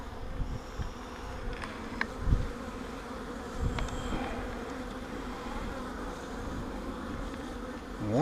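Honey bees buzz steadily in an opened hive whose comb sits empty, with no eggs; a dense, continuous hum fills the clip close by, with a few brief louder swells and passing thumps.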